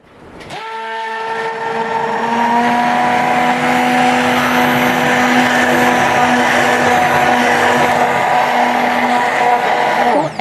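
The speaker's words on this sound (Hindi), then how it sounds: "मैं दही में इसको शामिल कर दूँगी और ब्लेंडर की मदद से इसे ब्लेंड कर लूँगी" Electric blender whirring through yogurt mixed with gram flour for kadhi, starting abruptly and holding a loud, steady motor whine with sustained tonal harmonics for about ten seconds before cutting off, with no voices.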